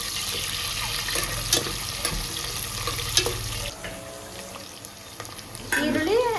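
Onions and green chillies fry in hot oil for a home-cooked biryani, a steady close sizzle with stirring clatter, easing midway before swelling again.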